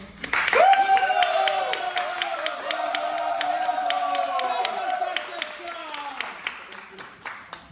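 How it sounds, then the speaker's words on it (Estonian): An audience at a vocational school stage show gives a big round of applause, steady rhythmic claps ticking along under loud sustained musical tones that fade near the end. "teeme neile kõigile suure aplausi"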